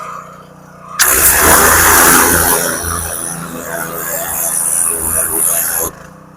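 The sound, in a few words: 3100 PSI gas pressure washer with turbo nozzle running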